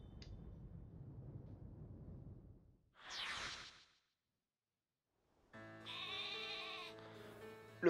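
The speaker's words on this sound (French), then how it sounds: "Un mouton. Voilà, les moutons." Sheep bleat in Pokémon Shield, a short cry that comes after a stretch of low rumble and is followed by a burst of game music, all at a moderate volume.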